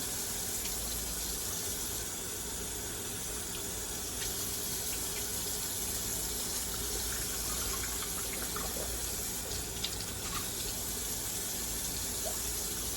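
A bleached wig being rinsed under a running tap, with a steady, full rush of water pouring into a sink throughout and faint shifting splashes as the hair is worked. No one speaks.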